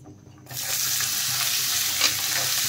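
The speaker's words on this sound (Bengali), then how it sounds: "আর আলু, ক্যাপসিকাম, বরবটি দিয়ে বেশ নেড়ে চেড়ে প্রথমে ভালো করে ভেজে নেব সবজিগুলো" Vegetables including potato, capsicum, carrot and long beans hit a hot pan and are stirred, starting with a sudden loud sizzle that continues steadily up close, with scraping of the stirring, no talk.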